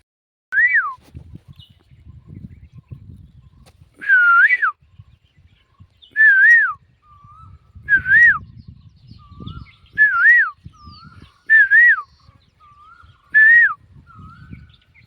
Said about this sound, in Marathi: कोकिळा आणि नरमादीचा आवाज आहे.